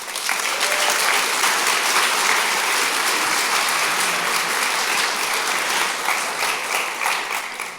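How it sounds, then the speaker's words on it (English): A church congregation gives a guest speaker a big round of applause, sustained dense clapping throughout that swells and then slowly thins toward the end, with no talking over it. "So let's give Ian a really big round of applause."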